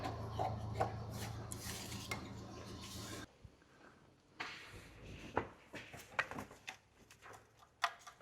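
Scraping and rubbing clicks as a VW ABS wheel speed sensor is wiggled out of its steel housing, with bursts of metallic rasping and a few sharp knocks, close and moderately loud, no talk.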